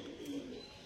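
A single soft coo from an Andhra pigeon, a brief low murmur heard up close with no talking.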